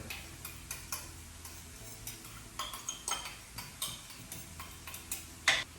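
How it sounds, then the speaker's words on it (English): A utensil stirs garlic and chilies in a pan, giving a run of light, evenly spaced ticks and scrapes under a faint sizzle, with no voices. "we're going to give it a nice stir"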